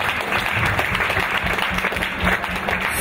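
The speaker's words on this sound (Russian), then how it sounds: "Аплодисменты." Audience applause fills a hall at the FEFU science slam event, a steady dense clapping from a sizeable crowd lasting the full three seconds, loud and continuous.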